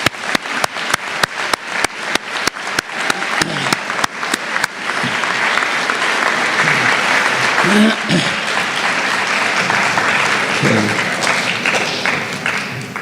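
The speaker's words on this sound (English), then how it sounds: "how about a round of applause for the 2025?" At a Veterans Day school assembly in Toronto, a few sharp separate claps ring out, then the audience swells into loud, dense, continuous applause that holds to the end, with some voices underneath.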